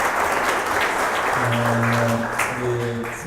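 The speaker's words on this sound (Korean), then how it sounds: "박수 부탁드리겠습니다" Audience at a housing and urban policy forum applauding after a speaker, steady hall clapping with a few sustained tones underneath, likely background music.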